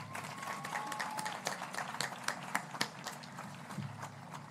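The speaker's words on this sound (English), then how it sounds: "Let's give him a round of applause." Applause from a high school commencement audience, a broad, steady crowd clapping with scattered louder claps throughout, heard at moderate distance in a large venue.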